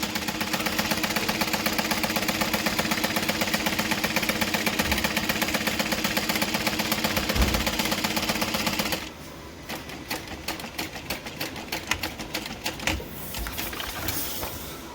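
A sewing machine stitches two lines at a 3.5 stitch length, running in a fast, steady mechanical chatter for about nine seconds, then slowing into quieter, uneven bursts of stitching.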